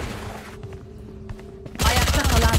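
Gunfire in the video game Valorant, quiet game sounds at first, then a loud burst of rapid shots near the end.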